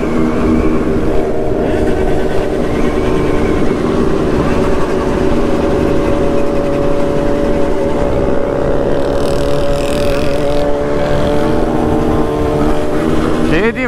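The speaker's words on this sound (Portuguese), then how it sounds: "de onde veio tanta moto assim do nada" A convoy of Honda Hornet motorcycles with straight-through pipes rides at night toward a city centre, their engines roaring loudly and continuously, with overlapping revs and a shifting pitch throughout.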